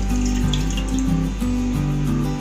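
Water runs steadily into a tea-making pot while preparing a herbal kadha, a close, continuous pouring stream with slight shifts in pitch as the vessel fills.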